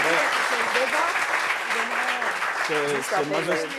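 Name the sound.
audience applause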